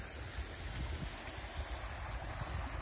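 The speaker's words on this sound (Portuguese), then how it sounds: "Descendo água aqui pelo sangradouro." Water pours down the spillway of the Lagamar reservoir in a constant, full rushing roar, steady and fairly close, with no talking over it.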